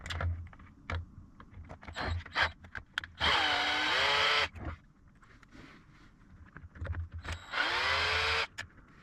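Power driver fitted with a Torx 15 bit removing seat screws from a Tesla Model S, two whirring bursts of about a second each with a rising pitch, separated by clicks and handling noises, close and clear.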